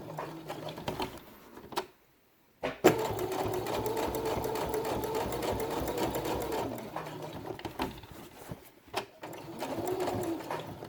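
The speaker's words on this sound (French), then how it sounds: "Là, je vais coudre sur mon trait" Sewing machine stitching along a traced line on felt for a squirrel quiet book page, a rapid whirring run that stops briefly and restarts, close and steady, with faint cooing birds nearby.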